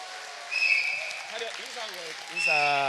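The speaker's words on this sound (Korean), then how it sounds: "박수. 더 뜨겁게 쳐주세요. 더 뜨겁게." An audience claps in a church during a children's service, bursts of applause rising under and between a speaker's amplified voice.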